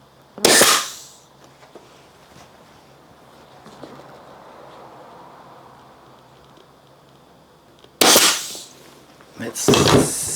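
A staple gun fires sharp, loud cracks while fixing upholstery fabric to the underside of a dining chair seat. One shot comes early, then a quiet stretch with faint handling noise, then a closing pair of snaps.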